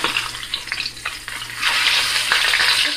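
Seasoned salmon fillets searing in a pan after being turned over, with loud continuous sizzling and crackling close up that swells in intensity partway through.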